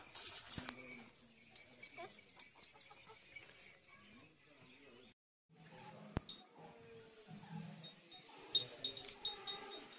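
A young goat in a Kashmir village gives a few faint, scattered bleats while being fed milk. Quiet rustling and soft voices surround the calls.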